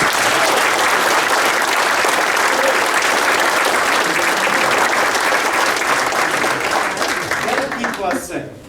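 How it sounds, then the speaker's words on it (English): A town hall audience in Breaux Bridge, Louisiana applauding law enforcement, loud dense clapping filling the room continuously before tapering off at the end. "We all join me in a round of applause for"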